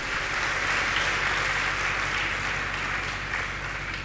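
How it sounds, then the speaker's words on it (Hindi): Audience at a Jain monk's religious discourse clapping together, a dense, even burst of applause held at a steady level for several seconds with no voices over it. "ताली बजा लो अपने लिए।"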